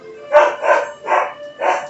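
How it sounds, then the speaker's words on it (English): Dogs bark in four distinct bursts about half a second apart, moderately loud and somewhat distant in the background, with no speech over them. "you might hear the dogs barking in the background"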